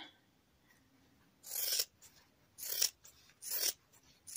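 Scissors trim the fabric edges of a small punch needle pillow in three close, crisp bursts of snipping and rasping separated by short pauses, quiet and isolated.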